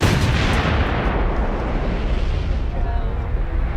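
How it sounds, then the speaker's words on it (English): A carefully prepared vehicle with quick-release sections blows apart in a film stunt explosion on the set of Valkyrie, 2008. The roar is loud and dense, fills the whole moment and slowly decays. "those will be very, very carefully prepared vehicles which will completely blow apart"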